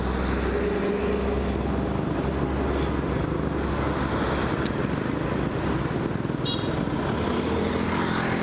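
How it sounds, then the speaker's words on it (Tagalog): Many large trucks roll past on a road at night, heard from a moving motorcycle as a steady, loud engine-and-road rumble mixed with heavy wind noise, with no clear breaks between vehicles. "Makikita mo dito, napakadaming malalaking truck."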